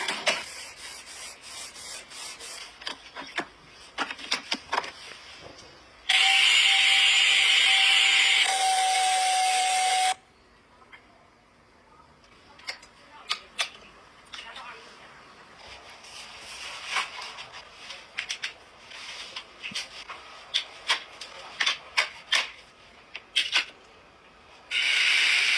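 A handheld electric cleaner runs at home while working into corners, a steady loud buzzing whine in one stretch and again briefly near the end, between quieter scraping and rubbing passages.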